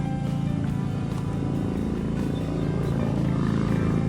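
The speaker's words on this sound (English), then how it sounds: "So constant truck noise, etc." Constant truck traffic rumbles from nearby Interstate 8 beside an RV park, a steady low drone with a faint tonal hum, unbroken and moderately loud with no voices.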